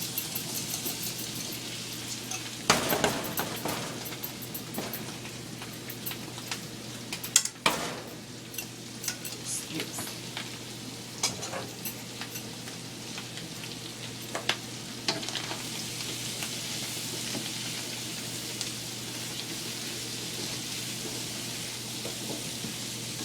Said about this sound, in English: So we just loosen up and move all our chickpeas around in there